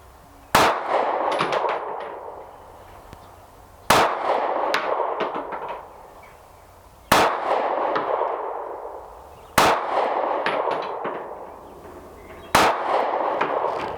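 Five sharp gunshots from a Taurus GX4 micro compact 9mm pistol ring out at an outdoor range, spaced about three seconds apart, each a loud crack followed by a ringing decay.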